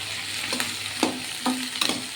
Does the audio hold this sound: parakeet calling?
no